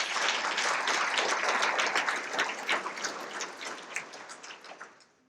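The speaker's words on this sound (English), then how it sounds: "Let's give it up for a round of applause." Audience applause fills a charity luncheon hall, a dense steady roar of many hands that thins into scattered claps and fades out over about five seconds.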